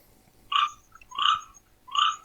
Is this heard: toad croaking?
yes